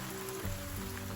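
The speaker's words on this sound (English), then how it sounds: "There wasn't any rain scheduled for today, but here we are, getting soaking wet and trying to hide under a tree." Rain falling during a hike in Virgin Islands National Park, soft steady patter with faint low tones beneath, quiet and continuous without speech.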